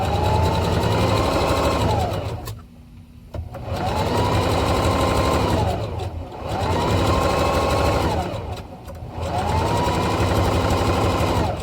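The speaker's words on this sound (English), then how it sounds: "I'm going to use my sewing machine here" A sewing machine runs in steady bursts of rapid stitching through fursuit head lining fabric, pausing briefly between runs, close and loud.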